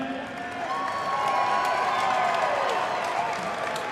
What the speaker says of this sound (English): how about a round of applause for these 2 young men?